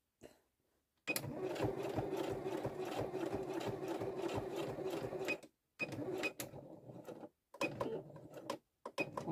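A sewing machine runs steadily at close range, stitching with a rapid, even mechanical rhythm, then stops and restarts in a few short bursts separated by brief silences.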